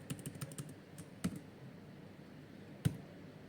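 Quiet typing of a heading on a computer keyboard: a quick run of soft key taps, then two sharper isolated key presses spaced about a second and a half apart, with no talk.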